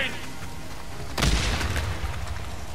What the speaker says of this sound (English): Pipe bomb, hold on.